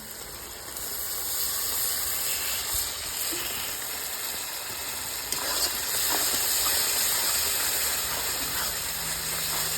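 Tomato paste and spices frying with onions in a pan, giving a continuous loud sizzle and hiss with a few faint clinks and no talking.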